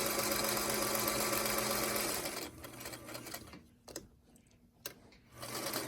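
A yellow Featherweight sewing machine stitches steadily up close for about two seconds, then the run breaks into softer, intermittent bursts with brief clicks and pauses.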